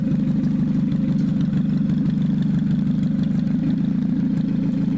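A 2016 derby car with an old engine idling steadily, a loud, low, continuous rumble with an even throb and no pauses.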